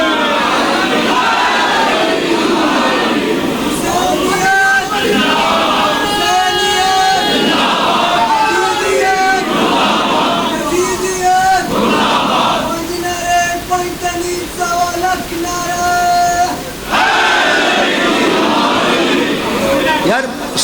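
Crowd at a Shia majlis near Kharian City raising religious slogans in loud, sustained collective chanting, with rhythmic voiced calls repeating throughout, dense and close.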